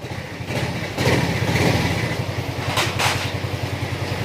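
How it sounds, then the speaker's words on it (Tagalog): A Yamaha Mio Soul 125 scooter engine with a replaced block set idles close by with a steady low rumble and regular pulsing beat, swelling briefly once or twice. "Tahimik naman yung makina niya. Yan, maandar na yan."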